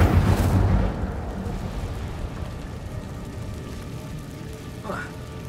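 An Incendio fire spell cast in Hogwarts Legacy: a loud whooshing burst at the very start that fades into a low rumbling roar and then a quiet crackle, with a brief tonal chirp near the end.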